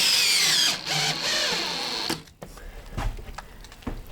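A power drill whines loudly up close for about two seconds while driving screws into a new ceiling in a salvaged mobile home rebuild, then stops, followed by a few dull knocks and handling sounds.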